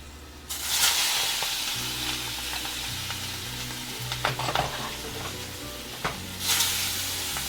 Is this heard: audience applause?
no